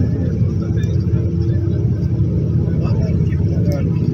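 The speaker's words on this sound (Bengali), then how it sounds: "আমাদের গাড়ি চলতেছে," A car drives along the highway from Jeddah airport toward Madinah in Saudi Arabia, with a steady, loud low rumble of road and engine noise from inside the vehicle.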